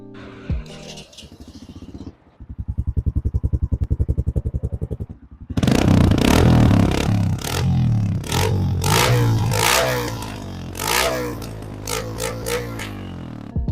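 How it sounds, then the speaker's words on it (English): A Honda CRF125F dirt bike with an aftermarket slip-on exhaust starts up and idles with a rapid, loud putter, then revs harder and louder with repeated throttle blips and clattering, up close. "I mean, it does sound louder. Some people say it does literally sounds like stock."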